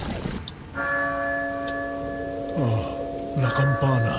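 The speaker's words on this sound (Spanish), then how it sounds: "La campana. Es hora de rezar." A church bell in the video game Resident Evil 4 tolls with a sustained ringing hum, struck again with a few metallic clangs, while a voice talks over it briefly.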